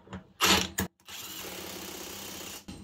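Parkside Performance PASSP 20 cordless impact wrench with an 8 Ah battery tightening screws: a quick burst, a pause, then a loud, sustained rattling hammering close up that stops abruptly before a brief final burst.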